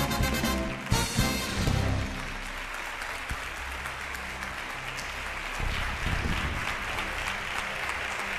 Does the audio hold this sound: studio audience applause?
yes